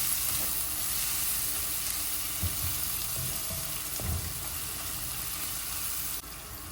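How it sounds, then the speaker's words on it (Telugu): Onions, garlic and cumin sizzle in a pan with a constant bright hiss of frying, close and steady, broken by a few soft clinks and stirring knocks, with no talking. "ఆనియన్స్ గార్లిక్ వేగుతున్నప్పుడే కొంచెం పెప్పర్ పౌడర్ కూడా వేయాలి"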